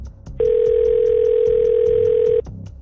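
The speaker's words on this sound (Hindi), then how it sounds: "तभी उसके फ़ोन पर एक कॉल आती है।" A steady electronic telephone tone sounds for about two seconds, loud and alone, as a call comes in on a phone in a Korean manhwa revenge-action story, with brief clicks before and after.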